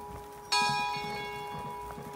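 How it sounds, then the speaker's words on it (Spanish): A church bell rings from an old tower with a single loud strike whose ringing tone hangs and slowly fades, and a fainter second stroke follows near the end. "Mirá qué lindas las campanas."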